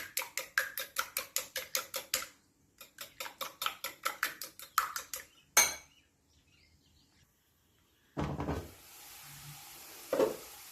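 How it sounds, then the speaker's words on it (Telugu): A plain egg whisked smooth with a utensil in a bowl, with no other ingredients added, for a fenugreek-leaf omelette curry: quick, even clinking strokes in two rhythmic runs, then a pause and a couple of scattered kitchen knocks. "ఏమీ వేయకుండానే ఉత్తి ఎగ్ మాత్రమే ఇలాగా మెత్తగా బాగా కలుపుకోవాలి."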